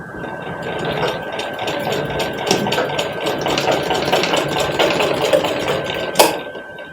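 A sewing machine runs steadily while stitching a fold on a baby cap, a loud, close, continuous mechanical whir with light rhythmic ticking and a sharp knock near the end.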